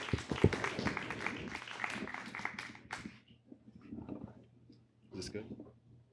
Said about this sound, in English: give a nice round of applause for Sunlight the Poet